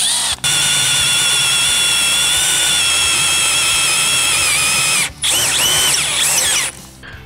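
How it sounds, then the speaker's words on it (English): A power drill with a 1/4 inch bit whines steadily and loudly while boring a through hole in metal, pausing briefly twice before spinning up again with a wavering pitch. "then drill the through hole"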